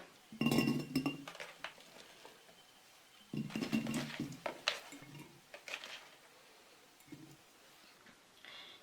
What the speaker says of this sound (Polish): Przebrane, umyte i ocieknięte z wody czereśnie wrzucam teraz do słoja.